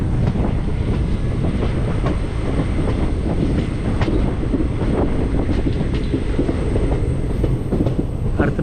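A passenger train on the Guruvayur to Tenkasi route running through a tunnel gives a steady loud rumble with repeated clickety-clack of wagon wheels throughout.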